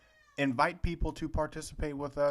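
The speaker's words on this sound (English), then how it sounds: "If you hear a cat in the background" A cat meows near the start, a short, high, tonal call heard just before a person begins speaking and then partly covered by that talk.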